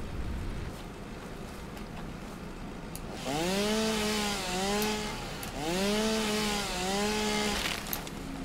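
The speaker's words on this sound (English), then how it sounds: "Let's equip the chainsaw." A chainsaw in the video game Satisfactory revs up after a quiet start, its engine whining in two rising and falling bursts with a steady buzzing drone underneath.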